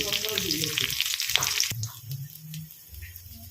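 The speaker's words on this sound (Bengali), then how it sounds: "কাঁচা লঙ্কা তেজপাতা আর জিরে গোটা জিরে দিলাম ফোড়ন" Whole cumin, green chili and bay leaf dropped into hot oil, a loud close frying hiss and crackle that fades quickly to softer sizzling with faint scraping and a low background hum.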